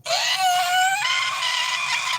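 A voice imitates a drawn-out scream, a loud continuous high wail that rises partway through and holds for about two seconds, alone with no other talk.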